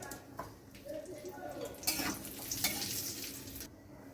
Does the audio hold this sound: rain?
no